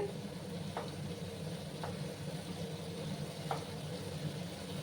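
Potato and small shrimp frying together in a pan with pointed gourd, giving a low steady sizzle punctuated by a few faint clicks of stirring, quiet and close with no talking.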